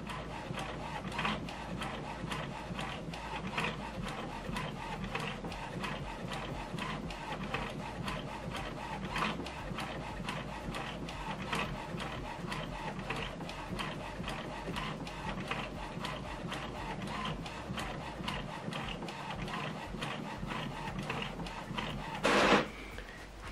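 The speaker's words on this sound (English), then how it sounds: "command the printer to print from the particular photo paper you have on the printer" An HP Officejet Pro 8135e prints a photo on glossy photo paper, giving a steady stream of fast mechanical ticks and whirring feed noise for over twenty seconds, ending in a brief louder burst.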